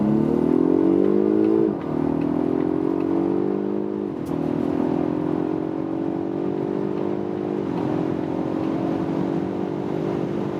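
A Polestar 1 plug-in hybrid accelerates hard from a flying start, its engine drone rising steadily through three gear changes that each briefly drop the pitch, loud and close inside the cabin, with no talking.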